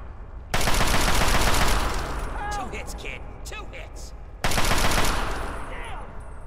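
Gunfire in Fallout 3: a loud, rapid burst of automatic fire that fades into a quieter stretch where a voice talks, then a second close burst returns near the end.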